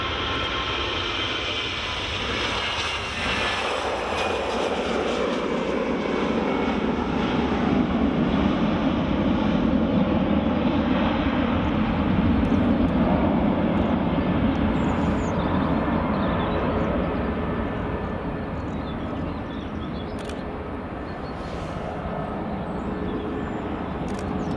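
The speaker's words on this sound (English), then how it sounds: "Is EasyJet just rolling?" An easyJet airliner rolling on its takeoff run at Edinburgh Airport, a broad engine roar that builds toward the middle and then eases slightly as it moves away, continuous throughout with no speech.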